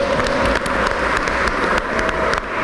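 Audience hands clap at an evening community event for a Liberian association, an even, dense round of applause heard close and loud throughout, with no voices.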